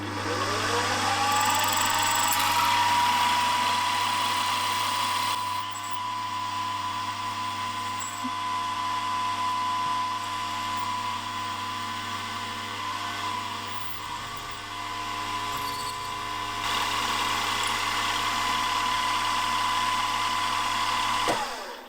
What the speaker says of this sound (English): I'll get back to you once I start drilling and reaming the 1/4 hole